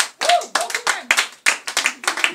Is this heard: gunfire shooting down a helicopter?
no